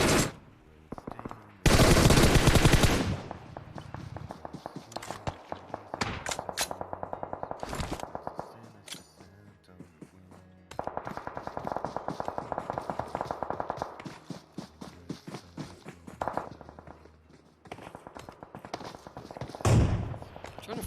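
Gunfire from a PUBG tournament match: bursts of automatic rifle fire and single shots, some loud and close, others distant and muffled, with quieter gaps between volleys.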